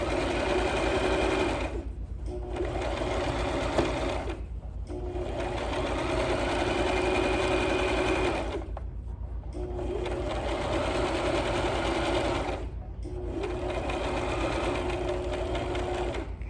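A sewing machine stitches a fabric face mask in steady sustained runs, pausing briefly three times between bursts of close, continuous motor whir.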